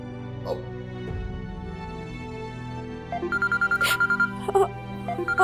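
A mobile phone rings with an incoming call. Repeated bright electronic ringtone pulses begin partway through, over a low, murmuring indoor background.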